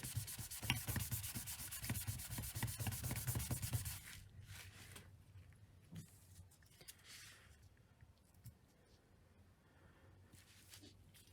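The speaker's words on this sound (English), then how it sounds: "I'll give it a bit of a wipe over on one side at least." Close, quiet rubbing and scraping as a cloth soaked in brake cleaner wipes grease off a surface in a garage, brisk back-and-forth strokes for a few seconds that then fade to softer, sparse rubs.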